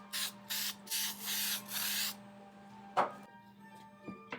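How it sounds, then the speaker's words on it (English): Several short bursts of spray adhesive aerosol hiss close by, one after another, while reupholstering a Toyota 4Runner seat, then a few quiet clicks and handling noises. "I'm going to end up spraying the whole surface anyways"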